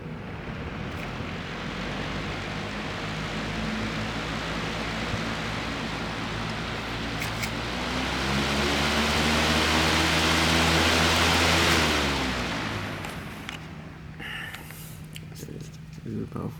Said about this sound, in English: This is a powerful fan.